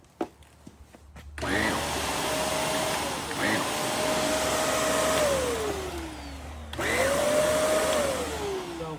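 A Shark Navigator upright vacuum switching on with a loud rising whine, whose brush roll spins up and cuts out so the pitch sags and falls away, then restarts and fades again, close by with a few clicks at the start.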